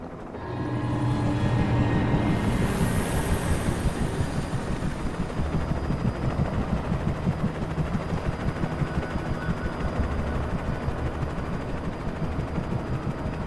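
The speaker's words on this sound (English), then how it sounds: "Waiting for this monster to take out this helicopter." A helicopter from the video game Alan Wake hovers close and loud, its rotor chopping in a rapid, steady pulse that builds in over the first second and holds throughout, with no talk over it.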